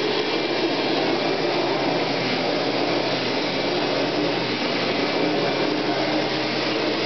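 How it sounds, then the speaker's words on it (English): A household vacuum cleaner runs steadily and loudly throughout, a constant close-up motor roar with no pauses and no voices. "Time to vacuum."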